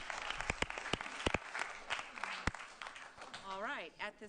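Applause at a county commissioners' board meeting, a burst of clapping with loud sharp claps near the start, fading under talk before a voice speaks at the end.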